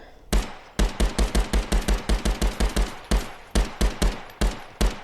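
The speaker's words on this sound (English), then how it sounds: "Oh, that gun sounds epic, doesn't it?" Rapid bursts of gunfire from a VR shooting game, a quick run of sharp shots in an uneven rhythm with short pauses, loud and close with no talk.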